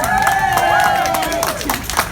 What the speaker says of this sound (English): And you should applaud that.